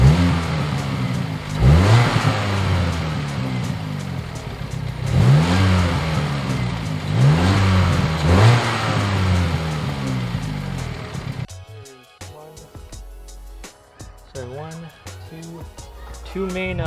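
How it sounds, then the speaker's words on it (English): A cold Audi S3 engine with its current intake fires up and revs in repeated rising sweeps, loud and close, then drops into a lower, choppier idle while a voice talks over it. "I'm going to do a cold start and just let you guys hear what it sounds like with the current setup right now"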